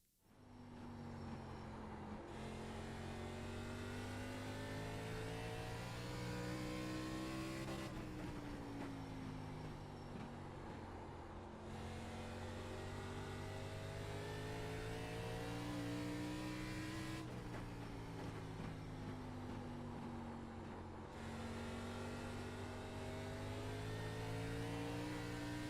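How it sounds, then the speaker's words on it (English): Race car engine in the iRacing simulator on an oval, revving hard and holding steady under throttle for a full lap, with repeated pitch sweeps as the car loads through the turns; loud and continuous with no talking. "carefully apply throttle to complete the lap"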